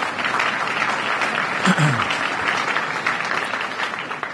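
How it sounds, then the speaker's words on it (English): Applause from the audience at a county State of the County address, a dense steady clatter of many hands clapping that carries on for several seconds. "we want to give them a round of applause for what they've been doing"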